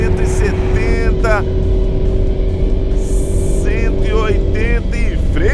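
A Mini Cooper S Countryman engine pulls hard in fifth gear on the Interlagos circuit, a loud steady drone with a constant tone while a driver talks over it.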